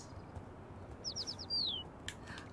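Songbirds in the cat video game Little Kitty, Big City give a quick run of four bright chirps followed by a longer sliding tweet, fairly clear over a steady low ambient background.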